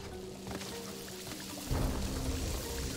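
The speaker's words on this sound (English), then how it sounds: "Thunderstorms?" Stormy weather in the Crash Bandicoot 4: It's About Time video game: steady rain hiss with a deep thunder rumble that swells partway through and keeps rolling to the end.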